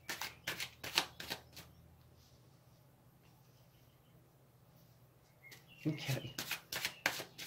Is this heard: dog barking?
no